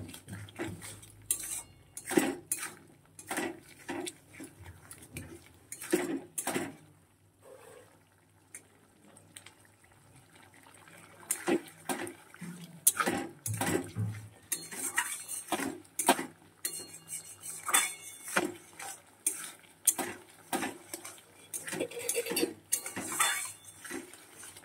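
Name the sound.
stir-frying spices with turmeric in a pan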